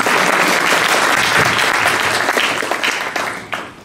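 Loud, close applause from an audience at an award event for a 2023 showcase panel fills the room, sustained and dense before tapering off near the end.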